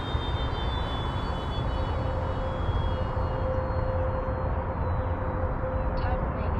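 An FMS 1400mm F4U Corsair RC plane flies overhead with a steady electric motor whine and a broad rushing drone, holding constant throughout.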